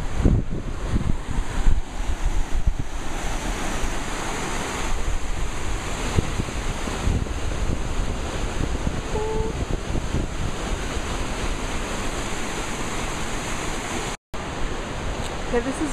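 A Yosemite waterfall rushes in a steady, loud roar at the start of the lower falls, with wind buffeting the microphone throughout.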